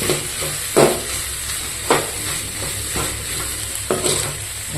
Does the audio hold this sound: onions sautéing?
yes